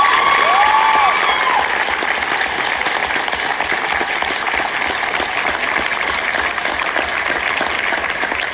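An audience at a student gathering claps hard and continuously, a loud, sustained roar of applause lasting over eight seconds with a brief whistle near the start.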